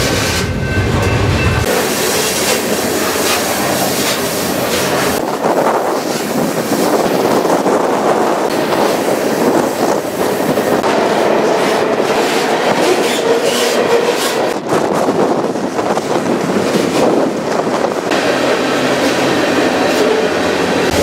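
A freight train rolls along with a loud, steady rumble and rattling clatter that continues throughout, with wind buffeting the microphone and no talking.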